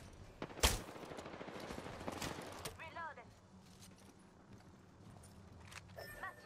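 Video game gunfire opens with one loud, sharp shot followed by scattered quieter bursts and clatter, as a voice speaks over the fighting.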